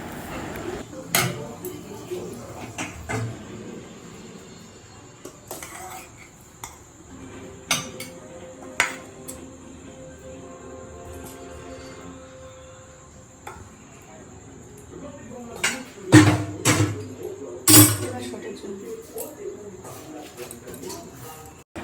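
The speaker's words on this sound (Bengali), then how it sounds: "এবার দেখো এখানে আমি কিছু থালা বাসন ধুয়ে নিচ্ছি" Plates, pots and utensils clatter and clink as dishes are washed by hand in a home kitchen, with irregular sharp knocks and rings over a steady background hum and chirping insects, while someone talks.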